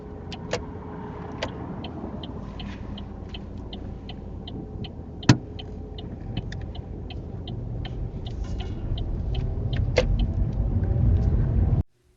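A car moving off from the roadside on a UK driving test: a low interior engine rumble builds gradually, with a regular faint ticking and a couple of sharp clicks before it cuts off.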